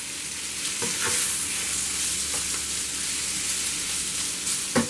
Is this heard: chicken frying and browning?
yes